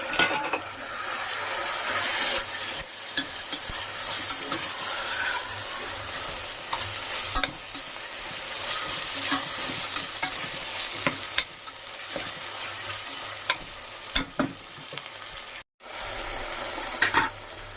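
Chopped tomatoes frying with ginger garlic paste in a pan, steady hissing sizzle throughout with a spatula scraping and tapping the metal at intervals, close and fairly loud.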